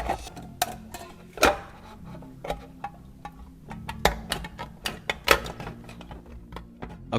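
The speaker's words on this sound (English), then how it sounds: "I'll start by drawing a circle the size of the smaller tin on the bottom of the larger tin, and then cut out the marked section" Cutting a circle out of the bottom of a metal tin makes irregular sharp metallic clicks and snips, close and crisp, spaced unevenly with quiet gaps between.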